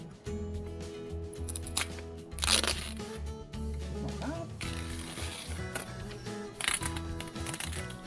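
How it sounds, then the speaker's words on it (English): Adhesive tape peeled in short, crackling strips from a wooden beehive, outdoors, rising in several ripping bursts over a background of music and a speaking voice. "today what I'm going to do is I'm going to take the existing tape off"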